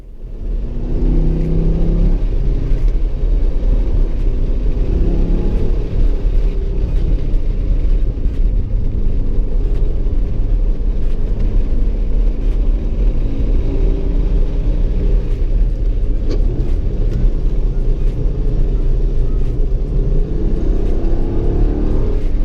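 Race car engine droning steadily at high revs in fourth gear during a track day, a C5 Corvette chasing a turbocharged E36 M3 on the NYST circuit; loud, continuous and close, with no talking.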